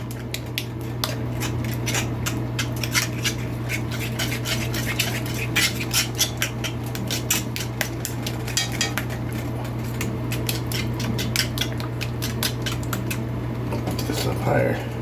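Utensils scrape and clink steadily against a pan as food is mixed for a chicken fried steak and eggs breakfast, a busy run of metallic taps over a constant low hum, with a voice speaking now and then.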